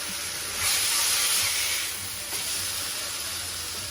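Burger bun toasting in a hot pan for a black bean and mushroom burger, a steady close sizzling hiss that swells for a moment and then settles, with no talk over it.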